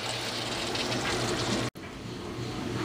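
Water poured from a cup into a pot of Italian sausage chili, a continuous rushing splash that breaks off briefly and then resumes, close and fairly loud, with no talking.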